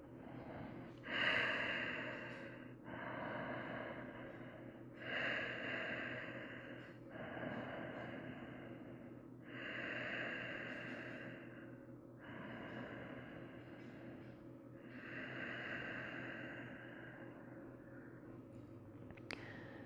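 Slow, deep breathing during a relaxed yoga pose, with about eight long audible breath cycles, each rising and fading in a steady rhythm, close and fairly soft with no talking.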